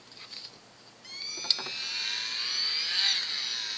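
Dremel rotary tool spun at high speed cutting into a Nerf blaster, a sustained high-pitched whine that starts after a brief pause and holds steady, rising slightly in intensity, close and alone.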